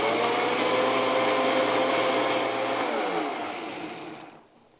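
A blender whirs loudly and steadily as it purees a cranberry, chipotle and jicama mixture, then the motor winds down and the sound fades out at the end.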